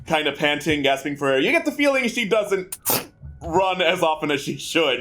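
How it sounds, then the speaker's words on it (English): A single sharp sneeze bursts out between stretches of lively conversation among several people at a tabletop role-playing game session, brief and close, with talk resuming right after. "That was a real sneeze."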